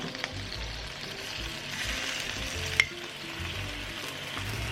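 Coconut sugar and water softly sizzle in a hot pan over high heat, a utensil scraping and stirring in irregular strokes, one sharp tap midway, fairly quiet and close.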